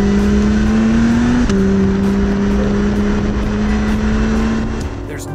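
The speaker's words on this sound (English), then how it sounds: "There's noise, there's speed, there is drama to be found with the NSX" Acura NSX supercar engine droning steadily and loud at speed while driving, a sustained tone that dips briefly partway through as with a gear change, then holds on before easing slightly at the end.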